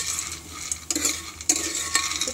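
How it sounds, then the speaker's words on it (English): Mangodi badis sauté in a little hot oil in a pressure cooker, a steady soft sizzle with a few sharp scrapes of a spoon stirring against the metal pot, close and without talk. "Into this we will saute the badis first to make them little more crispier"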